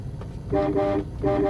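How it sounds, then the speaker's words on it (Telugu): A car horn gives two short toots, the second after a brief pause, over low engine and road rumble. "హార్న్"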